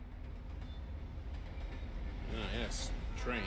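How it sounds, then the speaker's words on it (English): In the Alan Wake video game, a train rumbles past with a steady low rolling roar, and a voice talks faintly over it near the end. "Ah, yes. Train."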